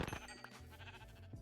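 Sheep in Minecraft bleat in short, wavering calls that overlap one another, fairly close, with game sounds underneath and nobody speaking.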